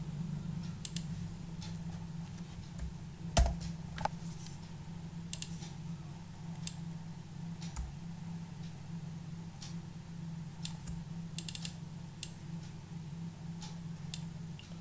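Someone types on a computer keyboard while working on Photoshop text, sparse crisp key clicks in short clusters with gaps between, close and quiet over a steady low hum, with no talking.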